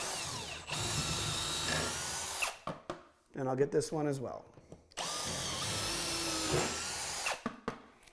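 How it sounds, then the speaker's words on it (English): A power drill bores holes into a wall stud during a TV wall-mount installation, two long loud whirring bursts separated by a short pause where someone speaks briefly. "I will drill these holes at the stud"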